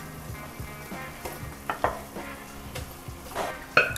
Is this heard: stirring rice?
yes